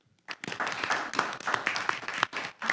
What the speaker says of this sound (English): I'd like to have a round of applause for the new Freeman